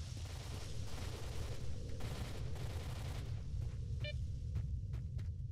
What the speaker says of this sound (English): Someone's getting shot up.